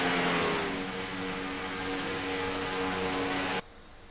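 Race cars lap the Echo Park speedway oval, their engines a loud, sustained droning whine with a harmonic hum that cuts off abruptly near the end, leaving quieter background noise.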